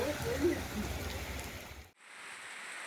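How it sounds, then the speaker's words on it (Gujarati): Wind-driven rain falling over villages in Gujarat's Bhuj area, a steady close broadband rush and patter that cuts off abruptly partway through, leaving a fainter hiss. "ગામડાઓમાં પવન સાથે વરસાદ વરસ્યો, જેના કારણે અનેક જગ્યાએ પાણી વહી નીકળ્યા।"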